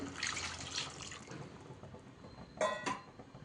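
Quiet kitchen background, then a short splash of water pours into a pot of potato curry in two quick bursts.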